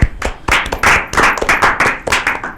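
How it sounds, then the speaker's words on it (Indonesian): A burst of clapping from a small group at a research competition event, a dense run of sharp claps lasting a couple of seconds with uneven bursts. "tepuk tangan dulu"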